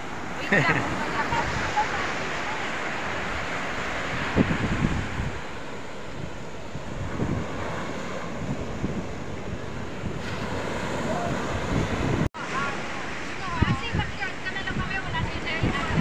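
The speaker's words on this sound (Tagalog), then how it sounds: "Dito naman sila sa dagat." Sea waves and wind at a beach around sunset, with continuous surf wash and heavy wind buffeting on the microphone. Faint voices are audible in the background.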